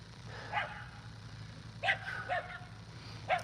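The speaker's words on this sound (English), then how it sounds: "That's my dog Remix." A dog gives a few sharp, fairly quiet barks, spaced out over a few seconds against a low background hum.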